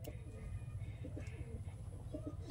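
Kaldom and laldom pigeons cooing nearby in a repeated soft, low rolling pattern over a steady background hum, with occasional faint voices in the surroundings.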